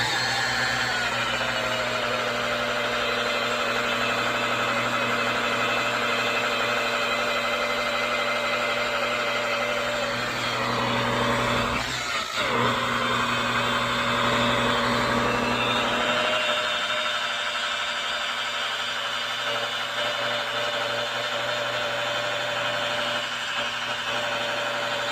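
A rotary buffer runs steadily while polishing oxidation off a boat hull with 800 grit compound, giving a continuous humming whine with a brief dip partway through and no talk.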